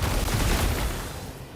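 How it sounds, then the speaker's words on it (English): A Plague Barrage wand spell cast in the game No Rest for the Wicked, a dense burst of rapid cracking impacts that rolls loudly for about a second and then thins and fades, with no voice over it. "The Plague Barrage in particular is an incredibly high damage spell that also closes the gap between you and your"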